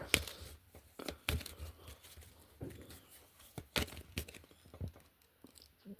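Soft, intermittent rattling and clacking of small hard rune pieces being shuffled, with brief bursts separated by quiet gaps.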